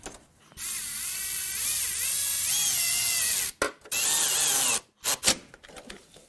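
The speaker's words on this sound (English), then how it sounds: "check with the old quarter drive ratchet, just to make sure that we got the proper amount of snugs on it" Quarter-inch drive ratchet snugging hose clamps during reassembly of a Porsche 911 996 Carrera, a near, steady buzzing whir of clicks running for a few seconds, then broken into short bursts near the end.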